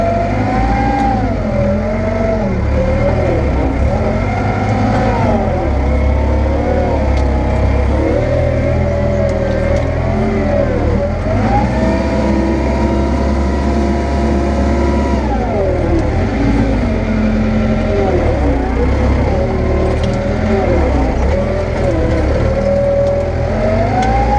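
An Ursus tractor engine drones loud and close throughout while hauling soil, a continuous low diesel rumble whose pitch rises and falls with changes in load and throttle.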